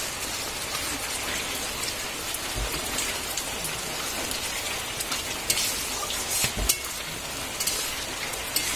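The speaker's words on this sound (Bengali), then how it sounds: "আর আজকে হচ্ছে বৃষ্টি" Rain falls steadily on a rainy day outdoors, a dense, continuous patter on surfaces with occasional louder drips and knocks, no voices.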